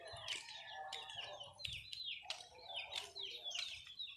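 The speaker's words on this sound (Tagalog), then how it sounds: "Mga manok ko." Backyard chickens in Tolosa, Leyte cluck and chirp in short bursts close by, with several overlapping calls over a quiet rural background.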